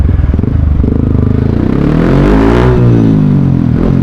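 A Yamaha WR 155 motorcycle engine revs loudly and close by, starting with a rapid choppy idle-like pulse before climbing in a sweeping rise and falling back, with no talking over it.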